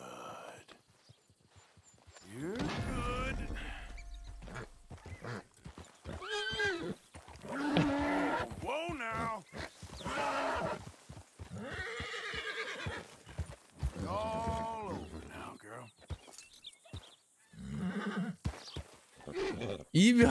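A Kentucky mountain horse in the Red Dead Redemption 2 video game, with whinnies and clopping hooves heard amid frequent talk from a player, the animal sounds fairly close.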